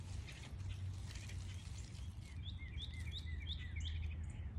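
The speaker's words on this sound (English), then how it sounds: "one of the other blessings in my life is that I am surrounded continually by a lot of different songbirds" Several songbirds chirp and trill outdoors, with a run of quick repeated bright notes toward the end over a steady low background hum, moderately distant.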